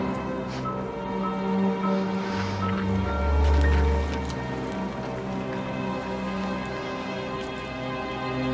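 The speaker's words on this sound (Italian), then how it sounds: "Il giorno dopo pioveva." Rain falls steadily, a soft continuous patter of drops heard alone at moderate level with no voices.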